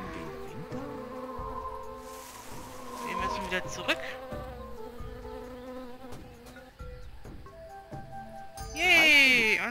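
A bee buzzes in the Tales of Monkey Island video game, a thin insect drone running under game music and someone speaking German.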